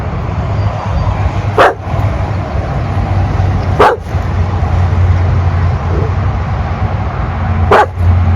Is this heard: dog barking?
yes